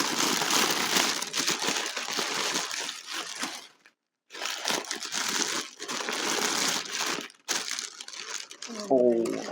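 Packing paper is crumpled and stuffed aside while crystals are unboxed: loud, close, continuous crinkling and rustling with two brief pauses, and a voice at the end.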